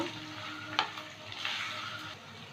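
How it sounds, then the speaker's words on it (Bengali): Carrot and capsicum sizzle and fry in a pan with onion, a steady close hiss broken by a couple of sharp stirring scrapes. "গাজর আর ক্যাপসিকামটা দু তিন মিনিট ভেজে নেব"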